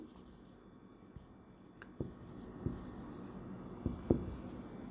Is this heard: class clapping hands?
no